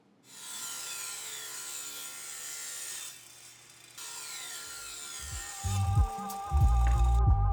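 A saw cuts strips off the sides of a piece of junk firewood with a steady broadband rasp that stops and restarts, and heavier low thumps and knocks come in near the end.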